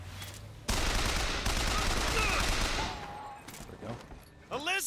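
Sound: gunfire in the video game Bioshock Infinite

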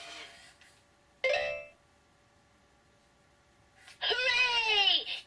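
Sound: doorbell ringing sound effect in a children's story

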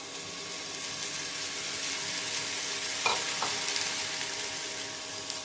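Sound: onion frying and being stirred in a pan for mutton curry

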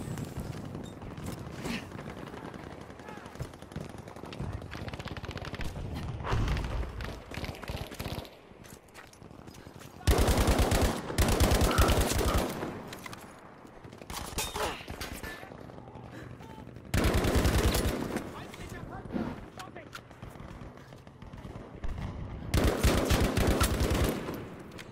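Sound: gunfire in video game Battlefield V

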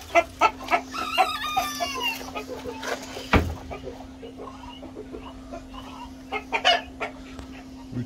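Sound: Modern Game chickens clucking and rooster crowing

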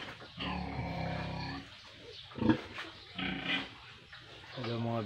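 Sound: pigs grunting on a farm

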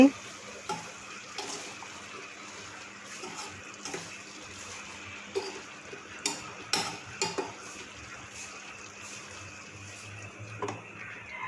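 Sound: stirring pumpkin and shrimp frying in a pan

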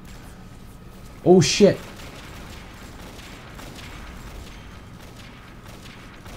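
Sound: gunfire shooting in video game Avatar Star

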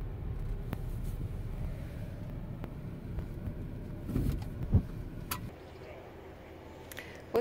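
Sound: car being parked

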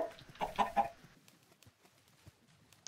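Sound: chickens clucking in a Minecraft chicken coop, video game

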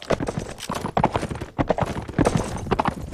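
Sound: horse hooves galloping in Warband video game

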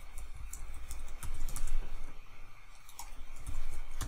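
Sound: typing on a computer keyboard

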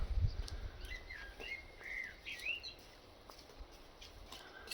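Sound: birds chirping in a forest near a sanatorium

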